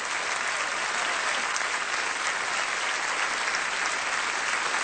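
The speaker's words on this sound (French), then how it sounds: "Ah ben les applaudissements," Audience at a magic show breaks into dense, sustained applause, a steady wash of many hands clapping that stays loud and even throughout, with no talking.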